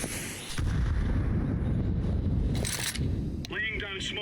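A grenade goes off in Counter-Strike 2: a loud, rumbling blast that holds heavy and broadband for several seconds, with a short voice heard near the end.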